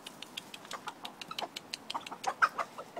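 Several chickens clucking in quick, irregular bursts at a moderate distance, with overlapping soft calls, in heavy rain.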